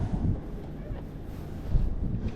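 Light wind buffets the microphone outdoors on a kayak fishing trip in North Florida, a steady low rumble of gusts lasting throughout with no other clear sounds.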